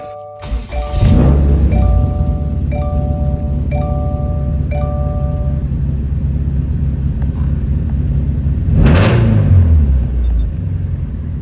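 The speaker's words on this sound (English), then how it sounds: "Now we're gonna start the vehicle and see what we got." A 2015 Subaru STI cranks and fires up close by, settling into a steady idle with a brief blip of revs partway through; a few electronic chimes sound early, and no one speaks.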